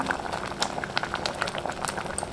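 Green gram and drumstick kulambu bubbling in a pot, steady close-up boiling with dense popping bubbles and a continuous wet patter, no voices.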